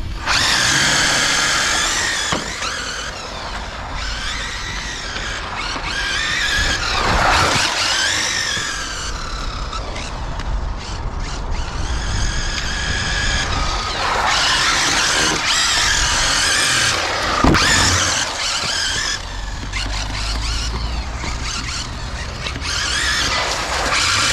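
A 1/8-scale ZD Racing RC rally car runs its electric motor at full throttle, giving a loud, continuous high-pitched whine that rises and falls in sweeping surges. No one speaks.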